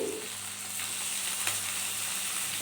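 Onion and tomato fry in a pan, making a steady, even sizzle at close range. A faint knock comes through midway, and no one speaks.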